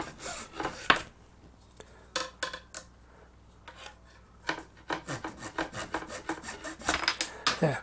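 A blade saws through an arrow shaft of fiberglass or carbon fibre in repeated rasping strokes, close and moderately loud, pausing briefly before a faster run of strokes near the end.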